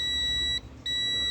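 A multimeter gives a continuous high electronic continuity beep while testing a shorted magnetron from a microwave oven that does not heat; the steady tone breaks briefly in the middle, then resumes.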